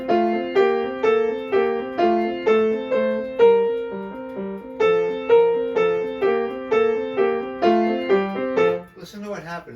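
A solo piano plays a steady run of a scale over a repeated low C pedal point, with evenly spaced notes in a regular rhythm at close range and no voices.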